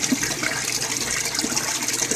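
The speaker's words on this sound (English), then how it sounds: "It takes 1 minute and 50 seconds to evacuate the bed until the siphon gets stopped." Water drains steadily through a bell siphon out of an aquaponics grow bed, a continuous rushing, gurgling gush that stays even and fairly loud throughout.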